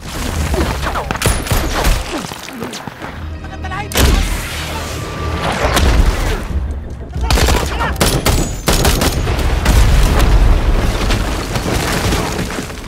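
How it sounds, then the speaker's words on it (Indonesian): Dense gunfire from a film firefight between Delta Force soldiers and terrorists: loud overlapping bursts of automatic weapons and sharp shots with booming impacts, sustained throughout and mixed with score-like rumble. "terjadi aksi baku tembak antara pasukan Delta Force dan kelompok teroris yang sangat edun lah pokoknya"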